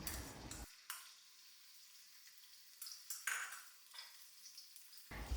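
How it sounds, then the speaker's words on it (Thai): Pounded curry paste stir-fried in hot oil in a pan, a faint sizzle with a few bursts of scraping and stirring between quieter stretches. "ผัดไปเรื่อยๆนะคะจนกระทั่งเครื่องผัดของเรานะคะ ส่งกลิ่นหอมนะคะ"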